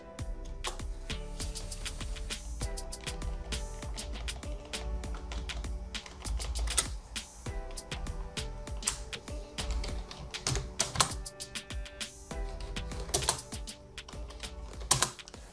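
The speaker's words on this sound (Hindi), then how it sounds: "तो आप अब हिंदी में इसको इस तरीके से टाइप कर सकते हो।" Steady, rapid typing on a computer keyboard during Hindi text entry on a Windows computer, a continuous close run of clicking keystrokes with occasional louder space-bar thumps and no talk.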